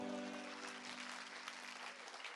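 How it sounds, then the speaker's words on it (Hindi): Audience applause at a Bollywood music stage show, a broad steady clatter of many hands over a sustained musical tone, continuing evenly without a break. "आपकी तालियां हो जाए तो मजा आ जाए।"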